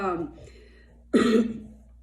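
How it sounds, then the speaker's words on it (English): A single sharp, close cough bursts out right after a short stretch of speech, then fades over about half a second. "excuse me for coughing"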